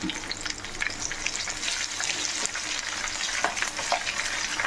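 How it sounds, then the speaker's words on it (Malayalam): Dried red chilies and curry leaves fry in hot oil for a Kerala oil mango pickle, a busy crackling sizzle with sharp pops and stirring, close and continuous. "നമുക്ക് നമ്മുടെ മുളക് ഇട്ട് കൊടുക്കാം കൂടെ ആ കറിവേപ്പിലയും ഇട്ട് കൊടുക്കാതെ ഇത് രണ്ടും കൂടെ നമുക്ക് നല്ലപോലെ ഒന്ന് വറുത്തെടുക്കാം"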